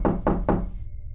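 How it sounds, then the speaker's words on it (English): Three firm, evenly spaced knocks rap on a bedroom door, close and loud, followed by a brief quiet hum. "the knocking was not at my front door, but rather at my bedroom door"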